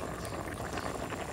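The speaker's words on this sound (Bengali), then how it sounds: "আচ্ছা আম্মু বরহুডি উতলাই উঠছে" A pot of yardlong bean and snakehead fish curry bubbles at a steady boil, a continuous close simmering hiss with soft popping bubbles and no talk.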